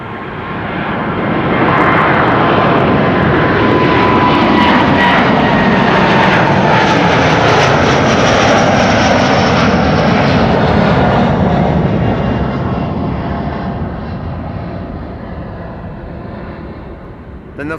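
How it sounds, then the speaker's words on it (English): A Delta Airlines A330neo airliner departs Amsterdam Schiphol for New York JFK, its engine roar swelling after a couple of seconds into a loud sustained rumble that slowly fades as the jet climbs away. "this is Delta Airlines Flight 49 to New York"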